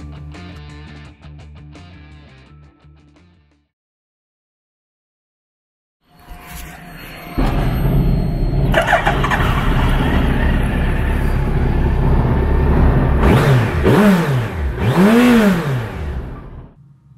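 A 2003 Suzuki GSX1300R Hayabusa motorcycle engine, after a quiet gap, starts up and runs loudly nearby, with two rising and falling revs near the end.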